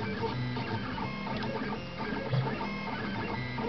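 A self-hosted 3D printer driven by LinuxCNC on a BeagleBone Black runs steadily, with whirring stepper motors and mechanical hum close by, a continuous busy texture with small clicks and no talk.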